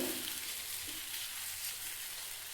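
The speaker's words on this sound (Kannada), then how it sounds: "ಈ ತುಪ್ಪದಲ್ಲಿ ಸುಮಾರು ಒಂದು 4-5 ನಿಮಿಷಗಳ ಕಾಲ ಇದನ್ನು ಚೆನ್ನಾಗಿ ಹುರ್ಕೋಬೇಕು" Raw mango pieces frying in ghee, giving a steady, close, hissing sizzle that stays even throughout with no talk.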